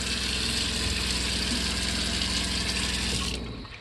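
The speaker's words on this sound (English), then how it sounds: "So water pump is on." Water runs steadily in a 2009 Four Winds 29BG motorhome while its RV water pump drives the flow, a loud continuous hiss and hum like a tap, cutting off abruptly near the end, with no speech.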